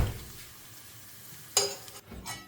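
Garlic slices frying in a pan for a tomato sauce, a faint, soft sizzle with a couple of brief clinks of a utensil against the pan near the end.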